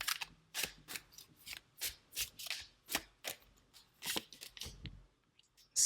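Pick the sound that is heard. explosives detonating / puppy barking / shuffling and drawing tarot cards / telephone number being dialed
shuffling and drawing tarot cards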